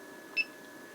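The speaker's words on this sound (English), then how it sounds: "I like the beep right now, so I'm going to leave it on" An electronic load device gives a single short, clear electronic beep over a faint steady background hum, with no voices.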